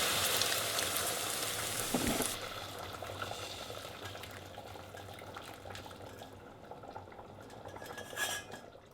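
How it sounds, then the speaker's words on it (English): Broth being poured into laksa paste in a pot, a close, steady splashing hiss with faint clinks of the pot, easing to a softer sizzle and trickle. "so that means we're going to add the broth in it"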